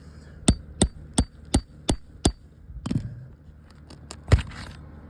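Hammer blows strike deteriorating roof shingles during a repair attempt: six sharp, evenly spaced knocks, then a scraping stretch and a few lighter taps before one final loud strike, all close and without talk.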